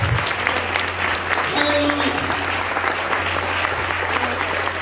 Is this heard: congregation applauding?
yes